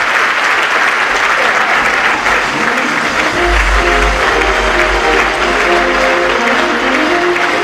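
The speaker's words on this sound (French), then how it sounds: "On peut applaudir d'accord les magiciens de la possible, Axel et Kelly." A studio audience gives sustained applause for magicians Axel and Kelly, dense, loud and continuous clapping throughout, with music rising underneath in the second half.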